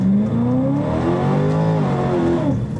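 A tuned car accelerates under throttle, its engine note climbing steadily in pitch and loudness, then dropping and rising again as gears change, heard close and loud with no talk.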